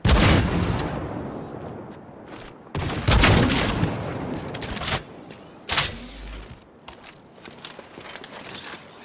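Repeated bursts of turret gunfire in the video game Cyberpunk 2077, loud and close, with heavy volleys rolling across the first five seconds, then sharper scattered shots and quieter trailing pops.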